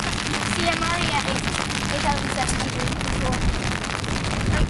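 Steady rain pours during an afternoon thunderstorm walk on a trail, a dense continuous hiss of drops on surfaces with people faintly talking underneath.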